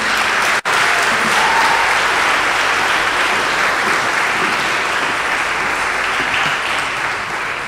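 A graduation ceremony audience at ACS Beirut breaks into loud, sustained applause, dense clapping that carries on steadily and eases off slightly toward the end.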